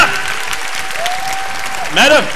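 Church congregation clapping at a revival service led by a preacher in Fort Smith, Arkansas, a steady wash of applause with a sustained tone running beneath and a brief voice rising near the end.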